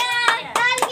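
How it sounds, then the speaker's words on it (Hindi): A child claps hands three times at an even pace, crisp and close, over a steady tonal background. "ताली बजा रहा है।"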